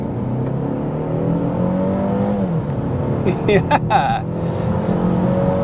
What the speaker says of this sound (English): It got us up to freeway speed really quickly.